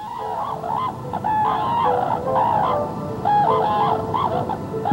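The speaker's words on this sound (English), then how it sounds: "The mating dance of Japanese cranes." Japanese cranes trumpet repeatedly during their mating dance in a wetland, loud bugling calls in overlapping bursts that rise and fall over a steady outdoor background.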